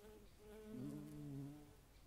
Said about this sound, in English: You can hear a bee in the background.